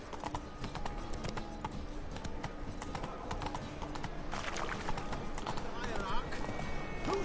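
Roach, the horse in the video game The Witcher 3, trots with brisk repeating clip-clop hoofbeats on hard ground, close and steady over a busy background of game ambience.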